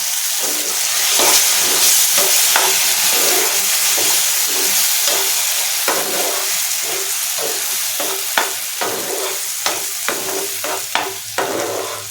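Tomato chutney sizzles and fries in a pan over a medium flame, a steady close hiss broken by repeated sharp clicks of stirring or spattering that grow more frequent toward the end, with no voices.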